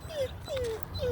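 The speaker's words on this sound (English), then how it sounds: "Isn't that a pretty doggy?" A dog whimpers three times in short, high, falling whines, faint and close against a low background hum with no talking.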